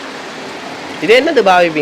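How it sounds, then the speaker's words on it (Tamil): Heavy rain falls on Nainativu island in a steady hiss beneath the scene, while a person talks in the latter half over the constant downpour. "இப்போ நல்லா மழை அடிக்குது"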